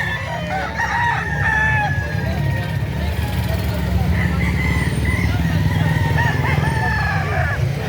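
Young seven-month-old stag roosters crowing repeatedly at a market, several overlapping crows with clucking, under people talking and nearby vehicle noise.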